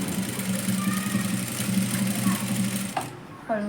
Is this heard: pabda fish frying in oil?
no